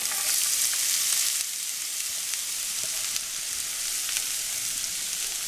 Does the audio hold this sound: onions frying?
yes